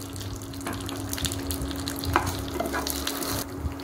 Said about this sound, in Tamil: கடலைப்பருப்பு, தோரம் பருப்பு, உளுத்தம் பருப்பு, இது எல்லாத்தையும் போட்டு நல்லா வறுத்துக்கணும்